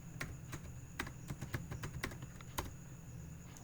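Quiet, close typing on a computer keyboard, a quick irregular run of light key clicks with a few sharper taps, over faint steady background hum and no talking.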